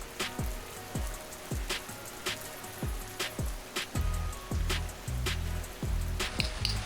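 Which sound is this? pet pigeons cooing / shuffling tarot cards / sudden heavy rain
sudden heavy rain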